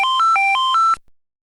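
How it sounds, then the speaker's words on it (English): A software telephone in a SimulTrain simulation rings as a quick electronic warble, six short alternating two-tone beeps over about one second before cutting to silence. "Your telephone is ringing."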